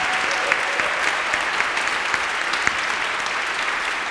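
An audience at an evening event honoring Dr. Michael Waters and Yulise Waters breaks into sustained applause, a loud, dense wash of many hands clapping continuously and evenly, with no voices rising above it.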